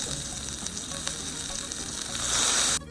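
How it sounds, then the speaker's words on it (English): Birria tacos with melted cheese fry in a pan, a steady close sizzle with crackling pops that swells louder near the end, then cuts off abruptly. "Cook until both sides are perfectly golden, crispy, and the cheese is melted."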